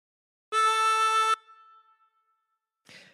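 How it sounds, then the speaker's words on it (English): A single harmonica note drawn on hole three and bent down to A sounds for under a second, bright and reedy, then fades into quiet breath noise; a brief soft rustle follows near the end, no talking. "breathe in through three and bend the note to produce A"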